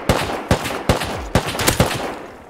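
Rapid gunshots from the video game Rust, about seven sharp cracks in an uneven rhythm over a couple of seconds, loud and close, fading at the end.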